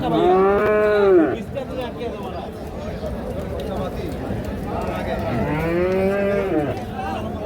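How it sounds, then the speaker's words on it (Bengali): A Friesian bull at the Kaharol cattle market gives two loud, drawn-out lows, one at the start and one near the end, with market bustle and talking voices in between. "ফ্রিজিয়ান জাতের ষাঁড় গরু"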